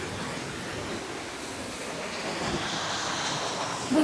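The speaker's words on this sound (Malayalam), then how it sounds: "അടിപൊളി വെള്ളച്ചാട്ടം ഇവിടെ ഉണ്ട്" A strong, heavily flowing waterfall at a tourist spot, heard as a steady, loud, broadband rush of falling water that fills the scene without a break and with no voices.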